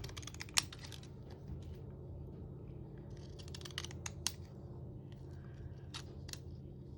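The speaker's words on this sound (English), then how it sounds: "this is just a really simple way to use those specialty scissors" Decorative-edge specialty scissors cutting paper make soft, scattered snips and clicks, faint and close in a quiet room, with a few sharper cuts standing out.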